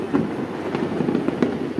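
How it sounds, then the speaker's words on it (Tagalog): New Year's fireworks for 2025 crackle and pop continuously in the distance, a dense rumbling wash of bursts with occasional sharper reports, heard without talking. "There's a lot of fireworks in there."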